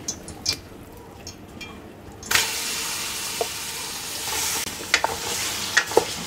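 Half a kilogram of beef for nihari hits hot oil over a low flame: after a quiet start, a loud, steady sizzle bursts in and continues, broken by a few sharp clinks as it is stirred.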